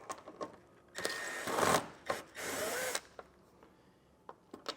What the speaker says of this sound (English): We'll have a 7mm socket. We'll pull them two out.